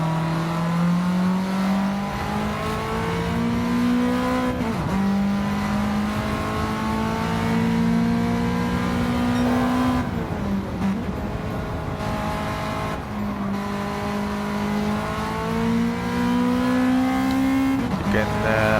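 A race car engine in a sim racing game revs up and shifts early, short of the rev limiter, producing repeated rising whines broken by quick gear changes, loud and continuous from onboard.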